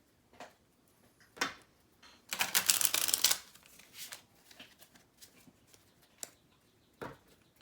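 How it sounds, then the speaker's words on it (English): A deck of playing cards for the Lord of the Rings card game being mixed and shuffled on a table: soft scattered taps and slides, then a loud riffling burst in the middle, followed by more quiet card handling and occasional sharp snaps. "then shuffle a couple times and call it good."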